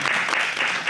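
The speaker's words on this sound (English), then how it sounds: "let's give a round of applause." Brief burst of audience applause at a panel talk on empowering Black creatives, steady close clapping over about a second with no speech.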